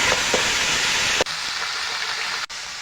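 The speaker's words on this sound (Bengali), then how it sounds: "এই চাল কুমড়ো এবার দিয়ে দেবো এর মধ্যে" Ash gourd pieces dropped into a frying pan of hot oil with slit green chillies, giving a loud, steady broadband sizzle that runs throughout with two brief dips.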